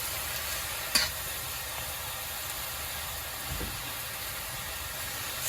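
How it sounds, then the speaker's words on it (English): Hand-torn cabbage stir-fried Sichuan style in a hot pan gives a steady, even sizzle and hiss throughout, with one sharp utensil clank near the start and a soft knock later on. "we're going to continue to stir until it is ready to plate"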